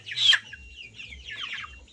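Crested desi chickens on an integrated farm, giving a sharp close cluck followed by softer, scattered clucking calls.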